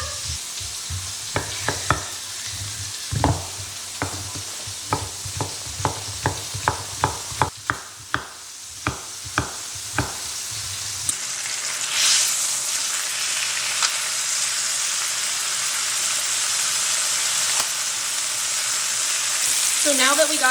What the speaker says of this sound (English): I'm going to rotate my skillet so that it browns evenly.